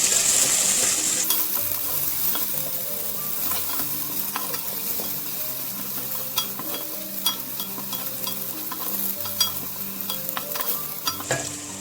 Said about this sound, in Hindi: और अदरक 1 टीस्पून जो चॉप किया था, थोड़ा सा इसको सौते करेंगे इसे भी